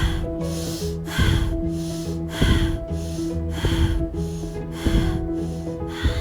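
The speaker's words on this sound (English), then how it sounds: "Listen to the sound of your breath." Rhythmic breaths drawn in and pushed out while walking during a yoga jogging session, regular close-up puffs repeating about every second over a steady musical backing.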